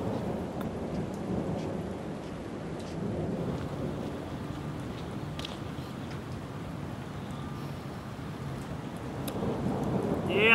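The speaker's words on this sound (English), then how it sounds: "The biggest Californian storm we've seen in years." Heavy rain pours steadily in a California thunderstorm, a dense continuous roar with low rumbling beneath, swelling louder at the very end.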